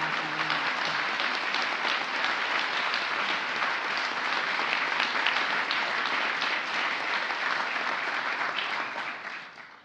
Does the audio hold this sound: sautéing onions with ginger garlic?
no